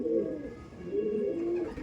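Madrasi pigeons held for sale coo in two low, drawn-out throaty phrases, close and fairly quiet with no other sounds.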